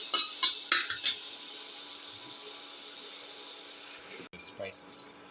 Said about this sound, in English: And crush the tomato.